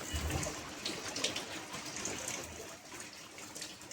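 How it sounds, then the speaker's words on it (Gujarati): Light rain falls while water flows gently, making a soft, steady patter and trickle with scattered brighter drips, fairly quiet and without talk. "આ ધીમી ધારે વરસાદ ચાલુ થયો, પાણી ધીમા હાલતા થઈ ગયા છે"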